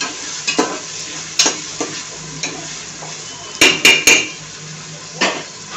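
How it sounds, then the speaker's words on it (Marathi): Tomatoes sauté on a high gas flame for chhole bhaat, a low sizzle under sharp metallic clinks and scrapes of a spoon against the cooking pot, several in a quick cluster near the middle, close and without speech. "आता टोमॅटो मी परततीये"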